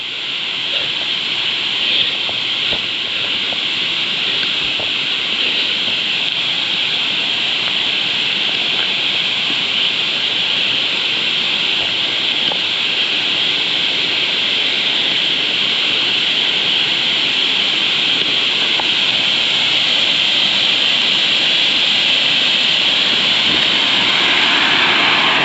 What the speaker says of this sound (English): And a little bonus waterfall.